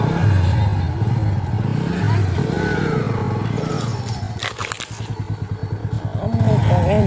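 A motorbike rides slowly through a neighbourhood toward its parking spot, its engine humming steadily close by with a brief rev and some rattling clatter partway through.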